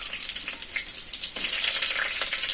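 Chillies and garlic sizzling hard in hot oil for a tempering in a village kitchen, a bright, loud hiss close by that flares up stronger halfway through, with no talking.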